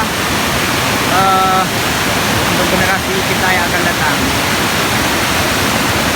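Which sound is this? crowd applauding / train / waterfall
waterfall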